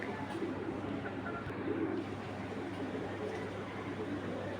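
A pigeon coos softly in low, rounded murmurs, faint beneath the background hum of the bird enclosure.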